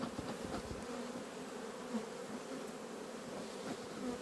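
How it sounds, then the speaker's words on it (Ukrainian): A dense, steady buzz of many honey bees swarming around a hive during an abnormally cold spring, continuous and close, with no voices heard. "молода бджола, лізе, безтолкова"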